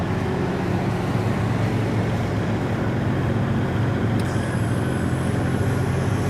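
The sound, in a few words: 2023 Newmar London Aire 455 RV retracting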